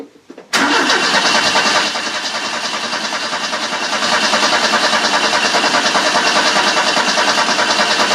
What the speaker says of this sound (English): Moby is cranking over an awful lot better now.